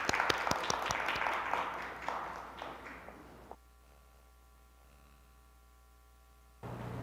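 Audience applause at an indoor policy forum, many hands clapping at once, loud for about three and a half seconds before it stops abruptly and leaves quiet room hum.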